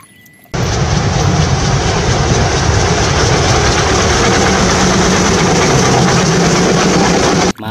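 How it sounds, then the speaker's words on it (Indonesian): A loud, steady rumbling roar of a steam train engine, continuous and close, starting abruptly and cutting off near the end. "Kereta api uap."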